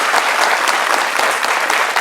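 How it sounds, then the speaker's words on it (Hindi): Students at a college prize ceremony break into dense, sustained applause, many hands clapping together at close range for the whole stretch without pause. "एक बार सब बच्चे मदन मोहन बिजी के लिए एक बार ताली बजाएंगे"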